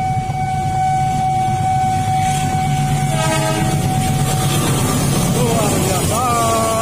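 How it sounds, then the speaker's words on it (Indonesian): Passenger train arriving from the Jatinegara direction at a level crossing, the Tawang Jaya Premium service to Semarang, with a loud sustained horn tone over steady rumbling wheels and nearby traffic, the horn bending in pitch near the end. "masuk kereta dari arah Jatinegara."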